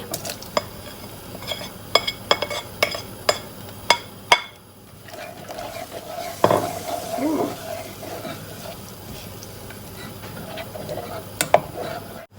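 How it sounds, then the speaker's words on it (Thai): Ingredients are stirred together in a pot in a Thai kitchen, with a run of sharp utensil clinks against the pot, then a steadier bubbling and sizzling stretch and a final clink, close by. "คนทุกอย่างให้เข้ากันค่ะเพื่อน"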